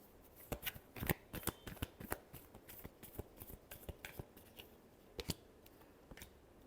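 Tarot cards being shuffled close up, a quiet run of crisp riffling snaps and slaps in irregular bursts, with no talk.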